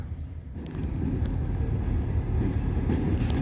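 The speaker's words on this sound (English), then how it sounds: "there's the short train coming in" A short train rumbles in steadily, a low, continuous rolling roar that swells slightly as it nears and holds loud and even throughout, with no voices.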